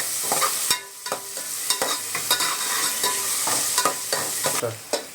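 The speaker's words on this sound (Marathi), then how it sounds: "कांदा थोडा लालसर होईपर्यंत हा परतून घ्यायचा आहे" Chopped onion sautéing in a pan for a Malvani-style crab curry, with a continuous sizzle broken by repeated sharp scrapes and clacks of a spoon stirring against the pan, close and fairly loud, with no speech.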